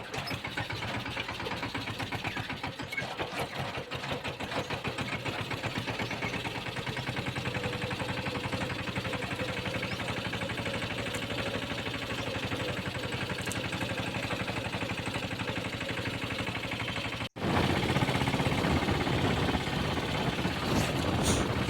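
A tractor engine drones steadily on a rough rural track near a village, a continuous mid-pitched rumble that jumps abruptly louder near the end.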